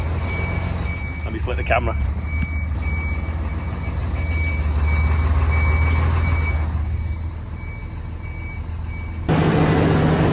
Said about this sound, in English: Just backing it up, moving it to the other side of the yard.